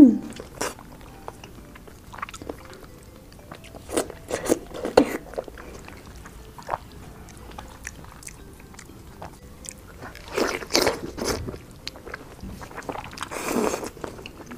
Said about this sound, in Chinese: 今天我们来吃一团肥肠，来吧。